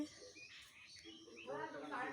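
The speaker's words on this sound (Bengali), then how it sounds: "পাখির ডাক," Morning birdsong in a natural outdoor setting, with several chirping calls rising and falling over soft background noise, growing a little louder toward the end.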